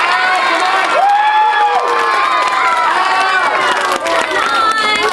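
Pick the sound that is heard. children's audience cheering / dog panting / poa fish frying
children's audience cheering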